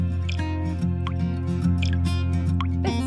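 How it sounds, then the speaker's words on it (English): Liquid smoke drips slowly from a condensing tube into a collection flask, each soft drop landing over a steady low hum. "This cools the smoke and condenses it into a liquid, which slowly drips into a collection flask."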